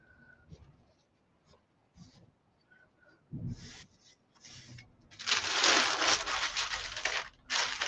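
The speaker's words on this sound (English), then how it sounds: "Might have to sand just a tiny, tiny bit." Sandpaper rubbed briefly against a small piece to make it fit, starting as a few faint scrapes and ending in a louder, close, steady rasping stretch with short pauses.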